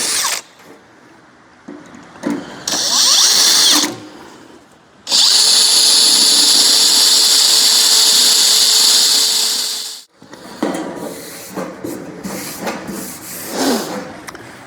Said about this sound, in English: I'm going to get a drill. I'm just going to pilot this